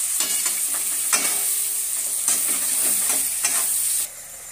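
Tomatoes sizzle and fry in a pan for a noodle paste, with several scraping stirs of a spoon over a steady hiss that drops away near the end.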